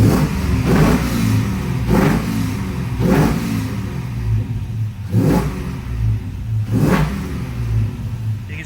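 A 1967 Camaro SS with an LS2 engine revs repeatedly in short bursts roughly every second or so, loud and close, settling back to idle between each rev.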